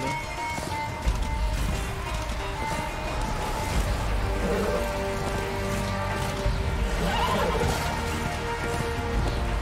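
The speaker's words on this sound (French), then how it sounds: "On peut sauter avec le cheval." In the video game Darksiders II, a horse gives two short whinnies amid steady rain and other game sounds.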